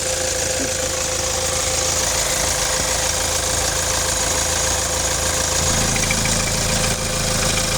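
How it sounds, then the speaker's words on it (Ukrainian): A 2015 Kia Sportage with a 2.0 diesel engine and automatic gearbox idles with a steady, loud, clattering hum, even and continuous throughout with no voices. "Моторчик працює без диму, без нічого."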